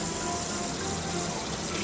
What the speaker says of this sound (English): Turning on the water.